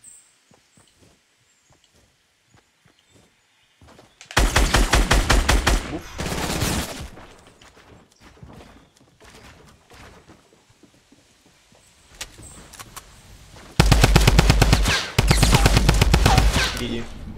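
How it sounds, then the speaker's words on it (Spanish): Rapid automatic gunfire in the Fortnite video game, loud bursts of shots in two long volleys separated by quieter stretches with faint game sounds. "Le están disparando por la espalda, creo."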